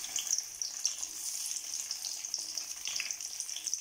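Brinjal (eggplant) pieces frying in hot oil for a Tamil ennai kathirikai kulambu give a steady, bright crackling sizzle, moderately close, with no voices.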